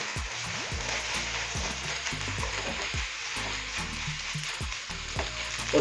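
Boiled chicken tikka pieces sizzling and frying in a pan while ketchup is stirred in, a steady bright crackle with repeated soft scraping strokes of the spoon close up.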